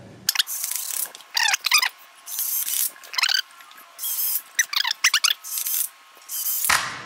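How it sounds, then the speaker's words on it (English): A power drill drives screws into a wooden parkour jump target in repeated whirring bursts with stuttering clutch-like ratcheting, close and fairly loud, separated by short pauses. "now I'm gonna start to put all of the rest of the screws into place"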